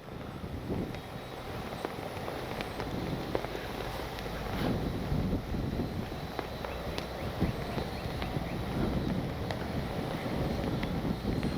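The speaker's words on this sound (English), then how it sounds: "Boy, is it windy." Strong wind buffets a microphone outdoors at a radio-controlled plane flying field, producing a steady low roar with gusty rumbling and faint background ticks throughout.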